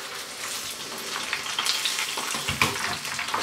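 Oil frying for a sushi spider roll has settled to a gentle, steady sizzle, a soft continuous crackle with a few brighter pops, close and alone without talk.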